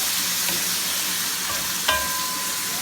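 Thinly sliced meat fries in a pan with a steady, dense sizzle and crackle, close and continuous, with a brief scrape of stirring.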